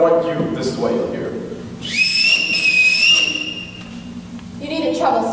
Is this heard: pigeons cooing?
no